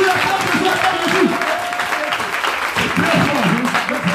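A church congregation at a revival service claps and cheers steadily for Jesus, a dense wash of applause mixed with shouting voices throughout.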